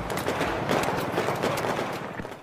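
Gunshot sound effect in a game sound-design demonstration: a burst of sharp, repeated cracks like rapid gunfire, loud and close, running continuously for about two seconds before trailing off.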